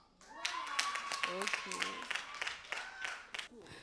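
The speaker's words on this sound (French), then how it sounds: "On applaudit." Audience clapping at a speaking contest semifinal, scattered distinct hand claps rather than a full ovation, while someone speaks over them and a high tone sustains in the background.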